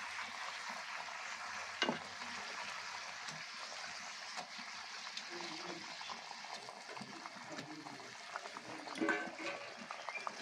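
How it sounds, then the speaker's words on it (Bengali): Fish pieces go into a simmering yogurt curry in a pan, giving a soft bubbling sizzle with a few splashes and stirring sounds close by, steady and fairly quiet throughout. "এবার মাছগুলো দিয়ে দেবো।"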